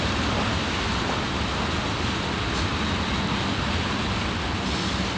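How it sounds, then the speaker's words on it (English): CP 8843 leading an ethanol train thunders past close by, a loud, continuous broadband roar of wheels and cars rushing along the rails, unbroken for several seconds with no voices. "This thing is thundering."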